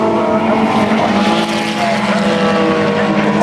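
Seven-style open-wheel club race cars roar past on a circuit, engines loud and sustained as several cars cross the start-finish line together.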